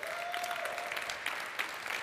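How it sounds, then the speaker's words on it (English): A studio audience at a talk show applauds steadily throughout, a dense, even patter of many hands with a faint tonal note early on. "And they're clapping and laughing even at stuff that's not funny."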